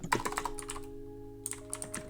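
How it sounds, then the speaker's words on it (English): Rapid typing on a computer keyboard during a gaming chat, with clustered key clicks at the start, a short pause, then scattered taps resuming, close up over a steady electrical hum. "I could hear you typing"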